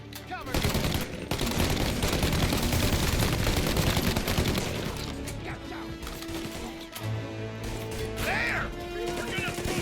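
Sustained gunfire in the video game Mafia Definitive Edition, dense rapid shots roaring for several seconds, then easing into a softer background of scattered noise with a brief higher call near the end.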